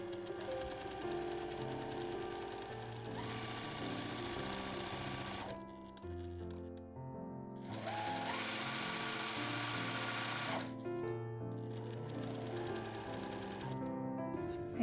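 A home sewing machine runs a straight stitch around the edge of a camisole dress, a steady loud mechanical whir that pauses briefly twice before resuming, with music playing underneath.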